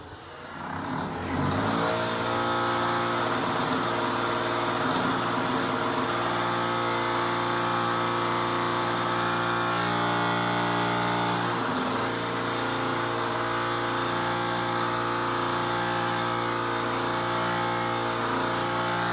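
A bench wire wheel spins up with a brief rising whine and then holds a loud, steady mechanical drone with a harsh scraping edge while it cleans brake parts from a 2009 Ford Escape. The sound stays close and continuous, with no talk.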